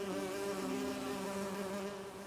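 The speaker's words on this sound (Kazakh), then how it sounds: "Бишара аралар." Bees buzzing around beehives in an animated cartoon, a steady close, droning hum of many insects that holds evenly throughout the short moment with no voices.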